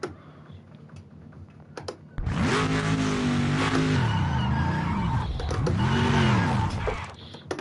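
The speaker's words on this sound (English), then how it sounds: "Gotta rev the shit out of it to keep it going once it's stalled." A Mosler N-GT race car engine in Project Motor Racing at Bathurst, revved hard after a stall: after a quiet start, the engine roars in and swings up and down through several loud, sustained revs.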